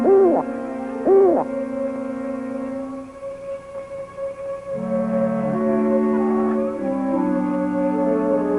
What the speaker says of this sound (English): It's only an old hootie owl.